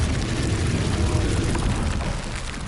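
A Bombarda explosion spell in the Hogwarts Legacy video game sounds as a continuous heavy rumbling blast, loud and booming for a few seconds without speech.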